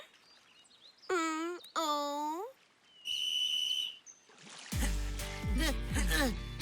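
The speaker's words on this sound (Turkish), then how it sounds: "Düdük çaldı ve yarış başladı." Three shrill whistle blasts start a rowing race, loud and close, then a noisy burst of voices and splashing commotion takes over.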